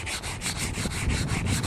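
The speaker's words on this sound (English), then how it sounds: "once you very generously but lightly sanded both sides of that" Sandpaper rubs briskly back and forth across brain-tanned buckskin hide stretched in a frame, a loud, close, rhythmic scratchy swish repeating about five times a second with no talking.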